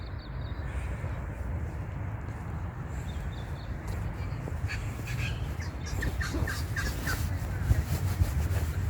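Ducks at a lake give faint, distant, intermittent calls over low outdoor ambience, growing a little busier toward the end.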